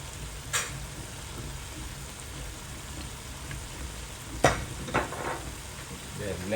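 Oyster sauce poured into pancit gisado frying in a pan, giving a steady soft sizzle with a couple of sharper splashes and stirring bursts partway through.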